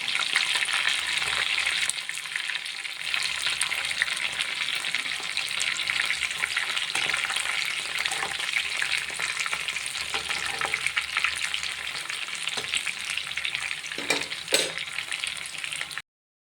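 Chicken pieces frying in hot oil in a home kitchen pan, giving a continuous, loud, bubbling sizzle with occasional stirring and scraping clatters throughout, no talking.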